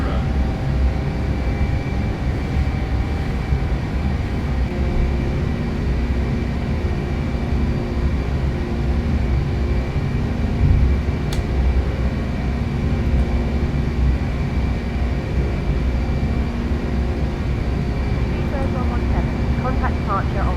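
British Airways Lockheed TriStar airliner climbing out after takeoff from London Heathrow, heard from the flight deck as a steady loud engine roar and rushing drone, with a voice cutting in briefly.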